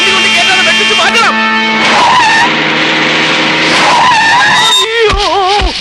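A car swerves with tyres squealing in a long, loud, near skid that rises and wavers, while people speak and shout over it in a comedy film scene.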